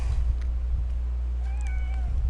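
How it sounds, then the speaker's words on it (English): A pet cat gives a single short meow partway through, heard over a low steady hum in an indoor room, fairly close but not loud. "my cat just meowed."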